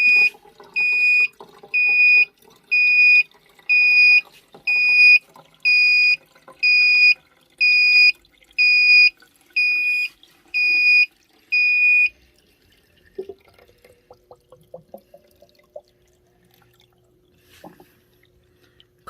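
An electric heated water mat's water-shortage alarm beeps loudly in a steady run of about eleven even, high-pitched pulses, then stops, leaving faint clicks and handling noises.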